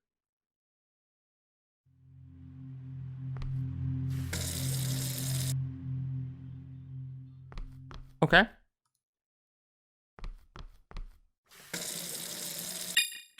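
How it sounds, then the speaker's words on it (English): A cup filled with water from a tap in a video game: a steady running stream lasts a few seconds, then a short splash and clinks, with another burst of water near the end and a brief spoken word in between. "I have filled the cup with water."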